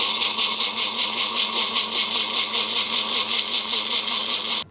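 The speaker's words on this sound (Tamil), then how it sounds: "பிளெண்டரில் அரைச்சிக்கலாம்." An electric blender grinding amla pieces and curry leaves in water, a loud, close, steady high-pitched whir with a slight pulsing churn that cuts off abruptly at the end.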